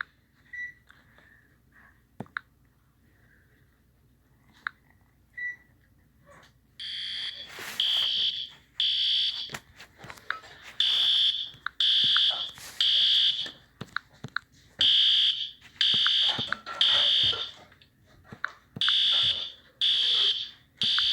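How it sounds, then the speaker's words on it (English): A school fire alarm blares in rapid repeating bursts, loud and insistent, starting after a quieter stretch with scattered faint clicks and brief indistinct voices. "I'm going to pull down a fire alarm."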